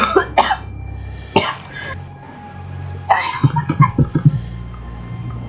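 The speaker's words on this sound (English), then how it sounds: "So ignore the coughs and voice." Several harsh, close coughs from a sick man, in bursts at the start and again near the end, with a short run of throat-clearing and breathy hacks and a low steady background hum.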